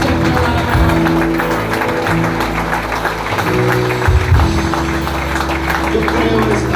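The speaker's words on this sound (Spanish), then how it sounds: "dé un fuerte aplauso al Señor" Rhythmic clapping from a church congregation during an evangelistic preaching service, steady and dense over loud music with a heavy bass line.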